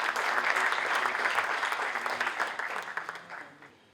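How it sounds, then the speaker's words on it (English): An audience at an architecture and interiors design debate event in Pune breaks into a loud round of applause that fades out over a few seconds. "Let us have a huge round of applause for him."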